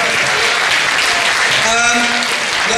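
A crowd at a carnival night crowning a new carnival prince breaks into loud, steady applause that fills the hall without a break, with faint tones and voices underneath.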